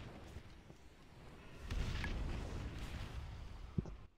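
A quick fuse bomb going off in a video game, a low rumbling blast that swells midway and holds, followed by a couple of sharp pops near the end, no talk.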